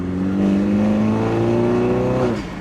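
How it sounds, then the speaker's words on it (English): A track-modified Mini Cooper F56 with its exhaust valves fully open gives a close, loud engine drone that climbs steadily in pitch as it revs, then drops off at the end. "let's have the valves fully open to hear the noises coming from this epic Mini"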